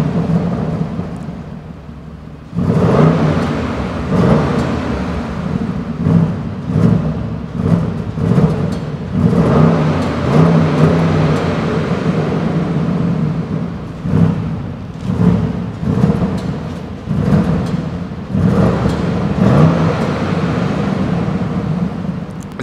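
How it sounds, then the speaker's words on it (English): A Bentley Bentayga S V8 engine with a Larte exhaust bursts into life after a quiet moment, then rumbles deeply with repeated revs rising and falling, loud and close throughout. "it's time to listen to the sound from the Bentley Bentayga S"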